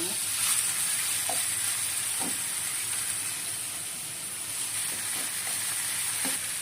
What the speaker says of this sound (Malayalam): കണ്ടോ, കൊഴുവ വറക്കുകയാണ്.